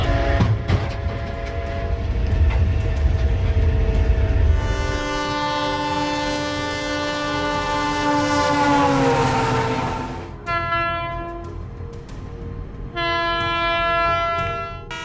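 A loud multi-tone train horn blares repeatedly, its pitch dropping as it passes, over the rumble of a train going by at over 60 mph.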